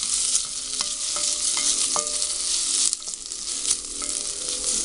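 Ginger sizzles steadily in a hot pan while being stirred for chicken tinola, with soft scraping and clinks of the utensil over the continuous frying hiss.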